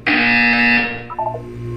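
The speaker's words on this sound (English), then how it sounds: "You will hear a buzzer." A loud electronic buzzer from the video game Portal 2 holds one steady, bright tone, then drops into a few short lower blips as it dies away, with no speech.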